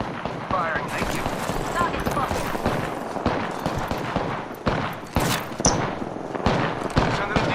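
Apex Legends gunfire crackles in loud, rapid bursts and scattered shots throughout a busy firefight, with a player's voice talking intermittently over it.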